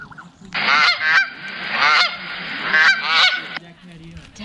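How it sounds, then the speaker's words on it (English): Goose honking sound effect played back, a run of loud, close honks in three or four bursts of repeated nasal calls with brief gaps between them, and no voices over it. "we're gonna see what the goose sound effect does right here."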